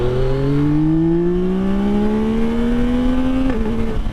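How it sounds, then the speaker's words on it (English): Yamaha MT-09 with Y-AMT semi-automatic gearbox revving up steadily through a gear, then a sharp race-style shift blip near the end, loud and close with no talk. "Oh, that's the same noise you get with the SP and the new derivative of the MT-09, that naughty kind of race sounding shift."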